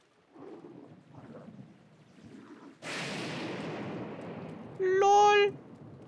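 Lightning strike and thunder in Zelda Breath of the Wild: a sudden loud crackling crash after quieter game sounds, rolling into a sustained rumble, followed by a brief bright tonal game chime near the end.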